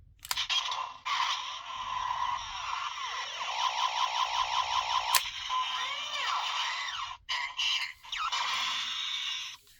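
A Kamen Rider Kabuto DX Zecter toy plays electronic sound effects after its tail is pulled: loud synthetic siren-like tones, a burst of rapid chirping pulses, sweeps and a sharp click, close with no talk.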